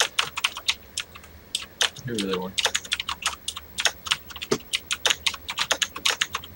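Rapid computer keyboard typing clatters close and loud throughout, a dense run of sharp key clicks, briefly joined by a short spoken phrase during online gaming.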